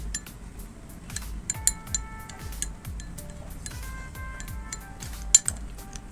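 A spoon stirs an ubtan face pack paste in a bowl, making a steady run of small clinks and taps against the bowl's side with a soft rhythmic scraping beneath, close and moderately loud.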